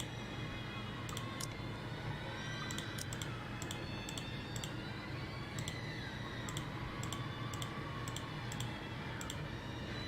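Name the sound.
computer mouse clicks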